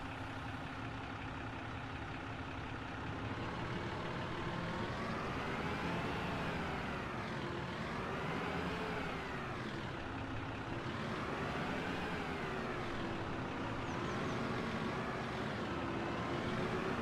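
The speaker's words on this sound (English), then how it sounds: "We'll hop in this other tractor here and grab this." Tractor engine in Farming Simulator 25 runs steadily at idle and low revs, a continuous heavy rumble with slow swells in pitch, fairly close and alone without talk.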